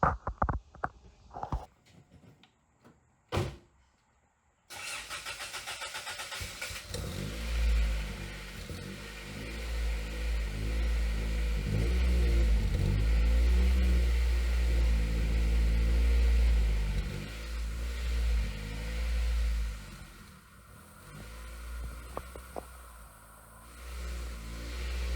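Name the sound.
hot rod car revving with new exhaust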